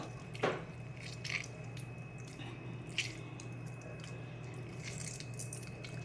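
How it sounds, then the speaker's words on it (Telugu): Chopped tomatoes squeezed firmly by hand give a few faint, wet squishes at intervals in a quiet room. "ఇట్లా గట్టిగా అసలు నీళ్లు లేకుండా ఇలా పిండేయాలి బాగా"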